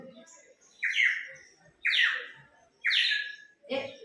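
A water-filled bird whistle chirps four times, its sound changing as the water level is raised, each a bright warbling trill, evenly spaced and fairly loud with quiet gaps between.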